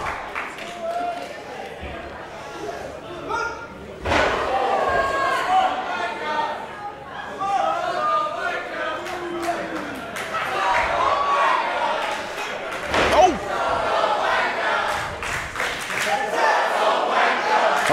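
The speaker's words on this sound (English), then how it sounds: "this crowd really having a piece of their mind" Live crowd at a Hustle wrestling match, with Laura Di Matteo and Electra in the ring, shouting and cheering in a steady dense roar that swells in a few louder bursts, under commentators talking.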